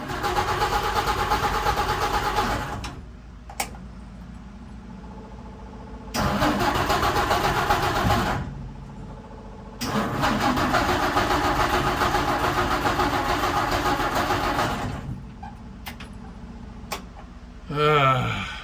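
1952 Dodge Wayfarer, recently rebuilt and suspected of a spark fault, cranking in three loud bursts separated by pauses, each a rapid rhythmic starter churn that catches briefly, with a short final crank at the end.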